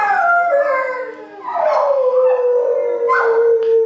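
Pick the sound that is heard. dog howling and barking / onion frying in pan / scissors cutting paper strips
dog howling and barking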